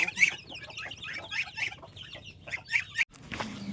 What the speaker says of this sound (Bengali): এখন মার মুরগি ঘরটা ছেড়ে দেবো, দেখি কতগুলো মুরগি আছে